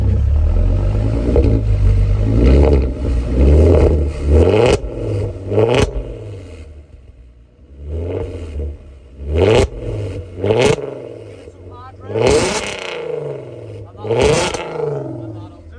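A Volkswagen Golf R32 exhaust revs hard in repeated bursts, engine roaring up and dropping back, loud and close, with a few sharp pops between throttle blips.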